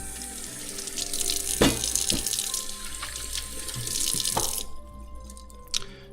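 Tap water runs into a kitchen sink while onions are rinsed, a steady splashing stream broken by a few clunks and drips before the flow cuts off near the end; no talking.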